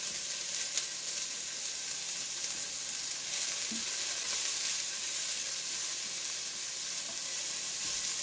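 Onions sizzling in about a tablespoon of oil in a pan over medium-high heat, a steady, even frying hiss that runs unbroken throughout at close range, with no talking.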